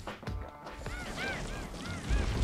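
Pigeons in the video game Bastion give several short honking, squawking calls in quick succession over a rumbling game background, moderately loud.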